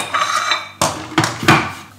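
Metal parts of a coffee machine are handled and fitted together, giving a few sharp clinks and knocks like dishes and cutlery, close and separate.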